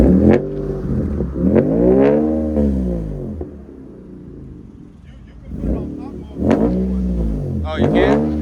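A 2017 Nissan 370Z with headers and a Motordyne cat-back exhaust revs hard in several sharp bursts, each rising and falling in pitch, with a steady idle between revs.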